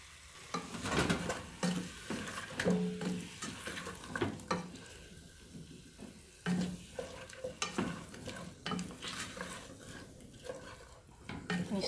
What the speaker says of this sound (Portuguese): Misturo bem.